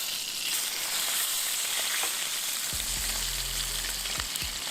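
A steak sears steadily in a pan outdoors after a hike, a loud continuous sizzle with a low rumble rising partway through, with no talk.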